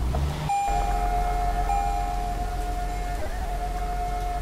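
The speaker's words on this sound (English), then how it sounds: "Apparently this Toyota Tundra TRD Pro has a high-pitched sound while idle." A Toyota Tundra TRD Pro idling in a video game gives off a thin, steady high-pitched whine that starts abruptly and holds nearly unchanged, over a constant hiss of rain and low engine rumble.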